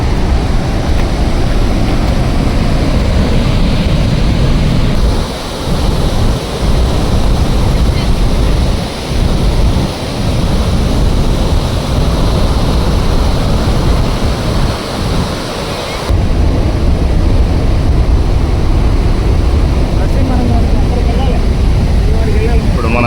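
A loud, continuous roar of water rushing through sixteen opened gates of the Nagarjuna Sagar Dam, with wind buffeting the microphone and voices faintly underneath.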